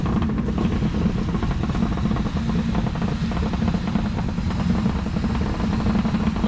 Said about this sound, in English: Both mufflers are, I think, rusted out in the back. So that's where the rumble is.